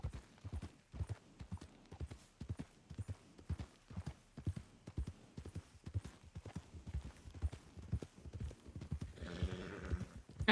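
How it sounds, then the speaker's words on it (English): Horse hooves clip-clop steadily in a Red Dead roleplay game, a rapid echoing beat of the player's own mount running throughout, with a brief rustling burst near the end. "That's just my own horse, I can hear echoing."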